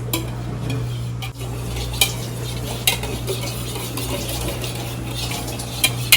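A spoon scrapes and clinks steadily through a tomato mixture in a cooking pan over a constant low hum, with a few brighter metallic taps standing out.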